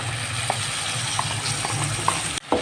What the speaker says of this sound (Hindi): टमाटर तो हमारे पहले से पके हुए थे, इसकी तरफ हमने बुनाई करनी है घी में